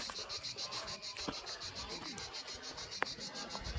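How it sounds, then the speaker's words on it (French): Cicadas singing in a tree outdoors, a faint, steady high-pitched pulsing buzz with a regular rapid rhythm, heard at a distance under soft background rustle and a few small knocks. "on entend les cigales"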